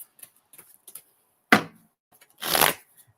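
A deck of tarot cards is shuffled during a reading, giving two distinct bursts of riffling, one short and sharp and a longer louder one, with faint handling ticks between.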